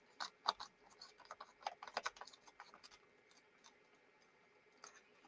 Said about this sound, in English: I'm gonna move batteries from my keyboard. Sometimes that helps, just wiggling them around.